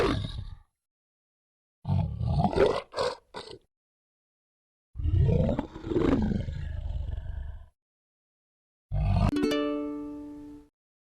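A bear roars in three separate deep, rough bursts with silent gaps between, loud and close, followed by a short bright ringing chime that fades out.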